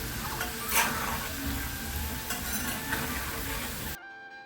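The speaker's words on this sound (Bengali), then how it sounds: "আলুটা ভাজা হয়ে গেছে, একদম লাল লাল হয়ে গেছে দেখুন" Potatoes seasoned with salt, turmeric and red chilli powder fry in hot oil with a steady, close crackling sizzle, broken by scraping spatula strokes against the pan, before the sound cuts off abruptly.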